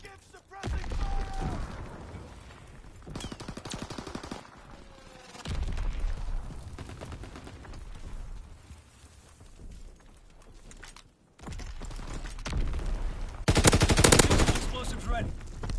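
Bursts of automatic and single gunfire from a Call of Duty multiplayer hardpoint match, loud and repeated in clusters, with game voice callouts spoken over the shooting.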